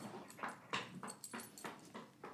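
Dog whimpering indoors: a series of soft, short whines and breathy yelps in a quick uneven rhythm, close but faint.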